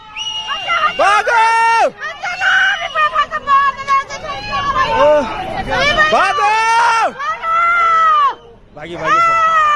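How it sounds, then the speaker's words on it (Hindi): Villagers screaming and shouting in alarm during a cloudburst flash flood in Uttarakhand, a loud, continuous babble of many overlapping voices with high, strained cries and wails rising and falling throughout. "महिलाएं और पुरुष सभी चिल्ला रहे थे, जान बचाकर भागो"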